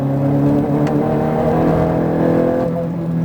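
Ferrari F430 engine revving under throttle on a track, a loud, steady close-up onboard howl that climbs and eases slightly with no pause.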